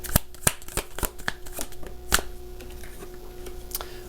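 Tarot cards being shuffled in a series of sharp, crisp riffles and snaps, close and moderately loud, with a faint steady hum beneath.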